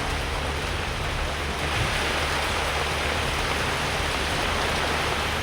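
Heavy rain pours down steadily over a Tamil Nadu area, making a dense, continuous hiss with no pauses and no voices.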